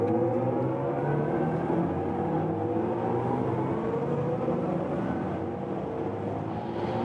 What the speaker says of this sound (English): let's now accelerate from 110 kilometers an hour.